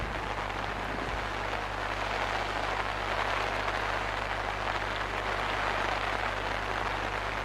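Rain falls steadily at the Kawah Putih crater in Ciwidey, Bandung, a dense, even hiss of drops with a low constant rumble beneath, continuous and close without talking.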